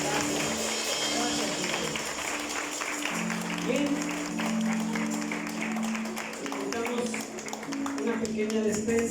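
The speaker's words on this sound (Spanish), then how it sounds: "Dale un aplauso al Señor." A church congregation claps together in sustained applause with steady dense patter, mixed with voices and a brief spoken word.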